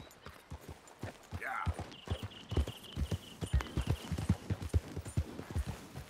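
Hooves of a horse ride along in Red Dead Redemption 2, a steady rhythmic clip-clop of many hoofbeats, close and clear, with a brief higher sound early on.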